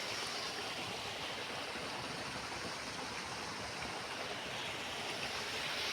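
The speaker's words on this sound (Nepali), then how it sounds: "यो चाहिँ पानीघट्ट हाम्रै हो है। यो चाहिँ पानीघट्ट। यहाँ चाहिँ गहुँ कोदे पिस्ने गरिन्छ।" Water rushes steadily through a water-powered mill (ghatta) used for grinding wheat and millet in Mugu. The flow sounds like a constant broadband wash, close and unbroken, with no voices.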